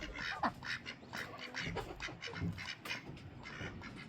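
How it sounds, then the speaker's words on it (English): Farm ducks quack in the dark before dawn, a rapid, busy stream of overlapping quacks from several birds at moderate distance, continuous through the whole stretch. "those ducks were just squawking."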